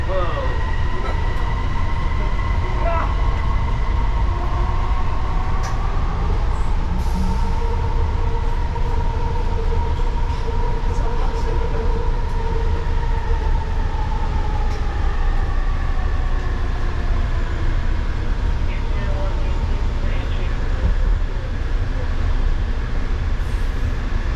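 JFK AirTrain running between Terminal 4 and Terminal 5, a loud steady rumble of wheels on track with whining tonal drive hum rising and falling throughout, heard from inside the car.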